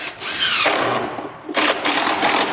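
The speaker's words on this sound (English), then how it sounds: "this will continue to drill and the tip will poke out the front, the top of your nightstand" A power drill drives a screw into a wooden nightstand top, whirring steadily for about a second, pausing briefly, then whirring again close and clear with no talk.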